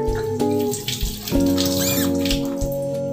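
Chili peppers are rinsed under a running kitchen tap, with steady close water splashing and trickling over a few seconds and no talking.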